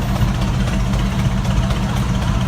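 A gasoline-engine Super RW9 tractor chugs along in a steam and gas engine show parade at Rollag, loud and close, its low engine rumble steady and unbroken throughout.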